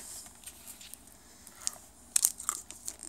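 A few sharp, crisp crunches of someone biting into a crunchy chocolate honeycomb snack from the UK, fairly close, with quiet rustling between bites.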